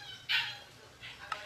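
A dog barks once sharply, then gives a softer second bark with a brief yip a moment later, slightly distant in a quiet room.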